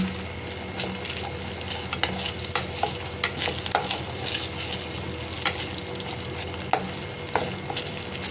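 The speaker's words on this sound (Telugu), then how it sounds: "కొంచెం అల్లం పేస్ట్ ఇది కూడా రెడ్ కలర్లో వచ్చేదాకా కొంచెం గ్రేవీ లాగా అడుగంటకుండా తిప్పుకుంటా" Ginger paste sizzles steadily in a hot pan, with scattered light scrapes and taps as a utensil stirs it. The sound is close and continuous, with no talk.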